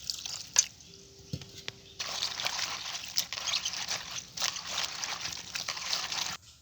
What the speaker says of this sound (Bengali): এখন আমি পরিষ্কার পানি দিয়ে কপিগুলো ধুয়ে নেব।